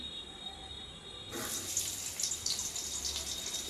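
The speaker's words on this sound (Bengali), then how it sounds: "তেল গরম হয়ে গেছে এরপর মোটা মোটা করে কেটে রাখা কুচানো পেঁয়াজ দিয়ে দিচ্ছি" Chopped onions drop into hot mustard oil for a chicken curry, and after a quiet moment a sudden, steady crackling sizzle starts and keeps going close by with no talking.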